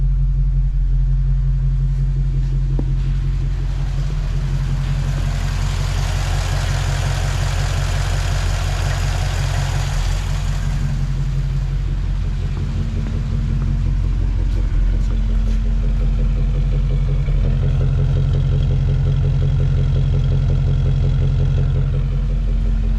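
A 1941 Ford Coupe's flathead V8 idles steadily after a cold start, a deep, even rumble that holds throughout, with a brief surge of higher mechanical noise partway through.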